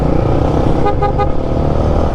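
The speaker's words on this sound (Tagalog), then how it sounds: "Ngayon okay na yung ating busina." A single motorcycle horn toots briefly in the middle, loud and close, over a continuous steady hum, after a horn wiring fault was repaired.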